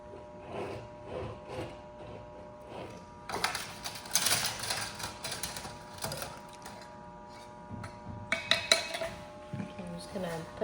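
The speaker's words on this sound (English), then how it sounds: "I'm just gonna clean the lids off of these jars." Metal canning jar lids clink and rattle while they are wiped clean with vinegar in a kitchen. The light, irregular tapping and scraping stays close and fairly quiet, with scattered brief clatters.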